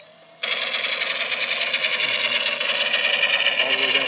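Electric motor of a FlightLineRC P-38L model plane whirring steadily as it taxis through grass, a loud even buzzing hum that starts abruptly and holds for several seconds.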